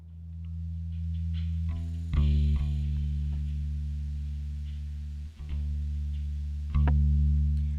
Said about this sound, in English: there's this awkward high buzzing sound that's coming through the